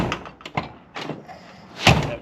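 Door lock on a Fox Body Mustang being manually locked and unlocked, heard up close as a few soft mechanical clunks followed by one sharper, louder click near the end.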